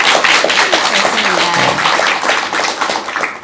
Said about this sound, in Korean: 좋은 말씀 해준 김원수 원장님께 큰 박수 한번 드시기 바랍니다.